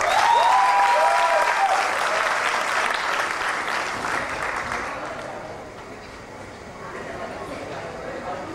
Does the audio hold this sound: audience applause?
yes